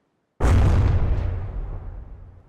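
A single loud bang from a paddle gun variant in the naval combat game From The Depths, a sharp explosive burst out of silence that decays into a long rumbling tail.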